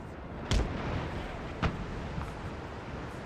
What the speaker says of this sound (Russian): Идет стрельба у нас.